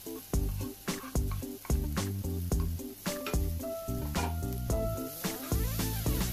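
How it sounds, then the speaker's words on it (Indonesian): Sliced leeks stir-fry in a pan with steady sizzling and crackling while a utensil knocks and scrapes in a repeated rhythm, close and continuous, with no talk over it. "Kita tumis sebentar."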